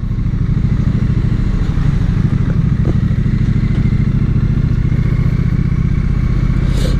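A Triumph Street Twin twin-cylinder motorcycle rides through city traffic, its engine giving a steady, loud, close low throb with a faint clattering edge and no voices.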